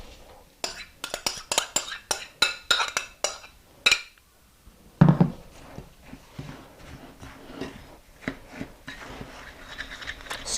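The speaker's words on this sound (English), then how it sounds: "I want to stir it up until there's no dry flour left, till everything's really nice and moist and kind of sticks together." A spoon scrapes and clinks through granola bar mixture in a glass bowl, giving irregular close knocks and sticky scraping strokes, with a little quiet talk.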